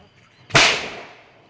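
A single firecracker bursting nearby, one sharp loud crack that rings out and fades over about a second against a quiet background.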